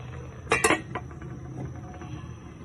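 A metal lid set back onto a pot of boiling calabash syrup, a quick cluster of bright clanks and clinks near the start followed by a few lighter taps, close up, over quiet background noise.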